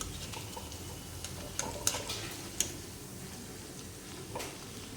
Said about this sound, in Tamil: இப்போ இந்த ஒரு பக்கம் பொரியட்டும்